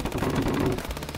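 Rapid automatic gunfire in the first-person shooter chess game FPS Chess, a dense burst of quick repeated shots lasting just over a second, loud and close with no talk.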